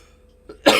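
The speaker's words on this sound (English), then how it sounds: "Hagrid impression made me cough." A person coughs once, close and abrupt, after a faint throat sound, the burst short and harsh at the very end of an otherwise quiet moment.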